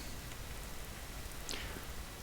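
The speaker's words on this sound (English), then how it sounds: "now we need to do something about this rain" Steady rain from the video game Vintage Story, a soft, even patter and hiss that stays faint and continuous throughout, with one brief swishing sound partway through and no voices.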